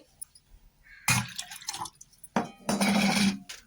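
Water is poured from a container into two cups of besan flour in a bowl for dhokla batter, in two short splashy bursts, close and fairly loud, separated by a brief quiet gap.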